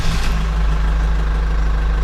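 A tractor engine idles steadily and loudly nearby, a low continuous rumble with a constant hum, alone without talk.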